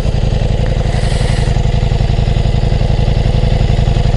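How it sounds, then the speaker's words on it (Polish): A Ducati Diavel V4 motorcycle engine idles close by, a steady, loud, evenly pulsing rumble that holds without interruption and has no voices over it. "Bardzo przyjemnie silnik pracuje, żadnego klekotania."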